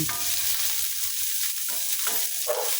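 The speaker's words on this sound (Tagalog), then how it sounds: "Ilagay natin yung ating sibuyas. Gisa-gisa muna tayo ngayon." Onions sauté in a pan for a ginisang sayote with chicken, a loud, close, continuous sizzle with a few scraping stirs of the spatula cutting through, and no voices.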